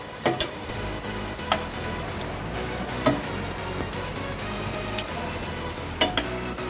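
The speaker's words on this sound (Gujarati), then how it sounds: "તો થોડાક મોમોઝને આપણે આવી રીતે સેલો ફ્રાય કરી લઈશું" Veg momos shallow frying in a pan give a steady, soft sizzle with scattered sharp crackles and pops, a few louder spits standing out, close and continuous with no talking.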